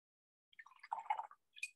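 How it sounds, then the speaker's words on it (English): A watercolour brush dipped into a water pot during painting: a few small, quiet drips and splashes, then a brief light swish after a pause. "Dipping that water."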